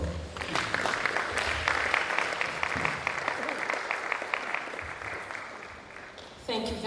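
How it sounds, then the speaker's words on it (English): Applause from the audience at an annual retreat of Nigerian university registrars: steady, dense clapping fills the room throughout and tapers slightly toward the end. "Please let's give him another round of applause."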